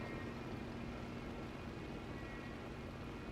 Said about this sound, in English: There's that Jericho siren.